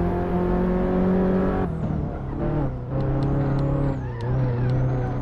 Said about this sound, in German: Einfach Gas geben.